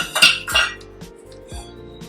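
Metal pot for sugar syrup set down on a stove for paneer rasgulla, a few close clanks and clinks in quick succession, loud and then fading, with no talking.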